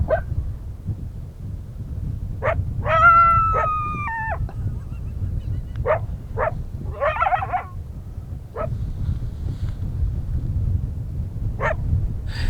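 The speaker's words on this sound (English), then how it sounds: "he stayed there and barked and barked and barked and barked at us" A coyote on a hillside barks repeatedly in short, sharp yips and barks spread across the stretch, with one drawn-out wavering howl, at moderate distance over a low wind rumble.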